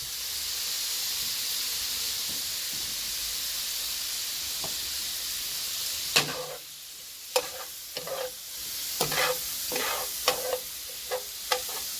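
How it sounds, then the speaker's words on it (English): Shrimp sauté in a pan with dry basil, giving a steady close hiss of sizzling, then repeated spatula scrapes and taps in the latter half, with no talk. "we're going to saute off the shrimp them"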